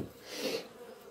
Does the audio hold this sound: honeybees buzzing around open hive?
yes